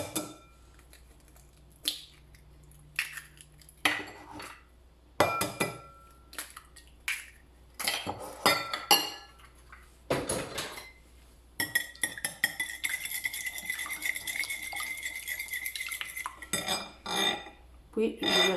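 Eggs being beaten in a bowl for a cookie-style dough, with sharp clinks and scrapes of utensil against the dish in irregular bursts, fairly close and moderately loud, with a stretch of faster rattling whisking near the end.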